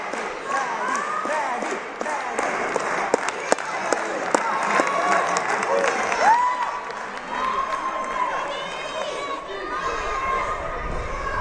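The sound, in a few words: crowd cheering and chanting Maggie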